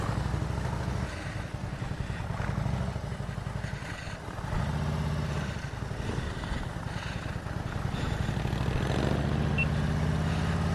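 A motorcycle engine rumbles steadily close by as the bike pulls out onto the road during a benefit ride, the throttle rising and easing with some clatter.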